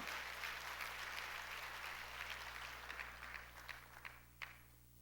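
A church congregation applauding during a sermon, a dense, steady wash of many hands clapping that carries on without a break and eases off slightly toward the end.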